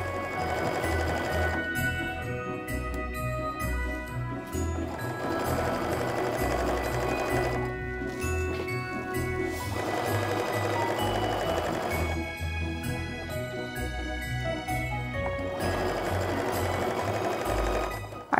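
A sewing machine runs steadily while chain piecing fabric for a snowflake mug rug, with long continuous stitching bursts separated by two short pauses.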